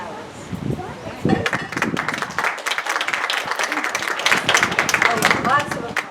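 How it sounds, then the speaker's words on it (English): A crowd applauds at a Hawaiian talk-story gathering, with dense, sustained clapping building after a brief start and continuing steadily for several seconds, with voices mixed in. "Oh, lots of applause."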